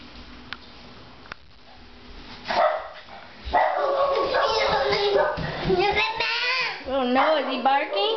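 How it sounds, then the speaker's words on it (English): A dog barks and yips repeatedly at close range in a home, with a voice and other talk mixed in. "Oh no, is he barking?"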